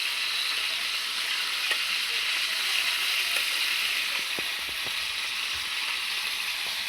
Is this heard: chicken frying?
yes